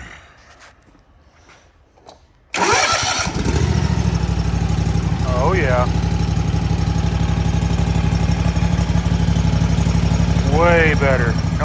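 A Toro TimeCutter 50-inch riding mower's Kawasaki FR691 engine, valves freshly adjusted, cranks and catches abruptly after a quiet lead-in, then settles into a loud, steady, even idle while someone briefly speaks over it.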